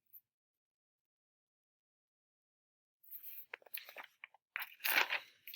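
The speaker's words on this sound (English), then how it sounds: "Crunch, crunch, crunch." Crunching and munching from dragons eating tacos, a burst of crisp bites arriving after a few seconds of silence and growing louder toward the end, close and alone.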